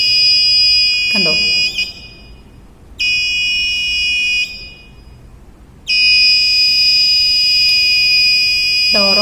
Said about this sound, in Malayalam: ഡോർ ഓപ്പൺ ആകുമ്പോഴാണ് അലാം അടിക്കുക